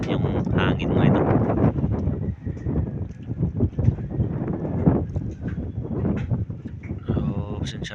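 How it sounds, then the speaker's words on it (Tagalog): Strong wind buffets the microphone beside a boat at sea, gusting loud and rough with rushing water beneath, while someone talks steadily through it. "Medyo malakas ngayon yung hangin, yung alon na malakas din"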